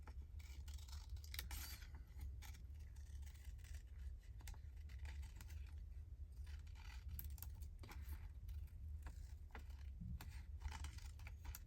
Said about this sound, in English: Let's cut this one out.